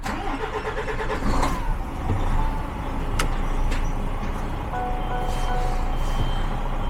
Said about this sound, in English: So let's start this truck up and put it in reverse.